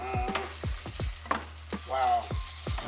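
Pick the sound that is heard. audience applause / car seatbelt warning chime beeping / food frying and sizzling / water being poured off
food frying and sizzling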